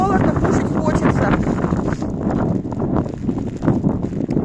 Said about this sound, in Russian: Сдувает ветром все, миски уносит.